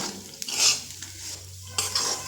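Semolina roasting in a pan, dry scraping and clinking of a spoon against the metal in a few irregular strokes over a soft low hum, close and fairly quiet with no talking.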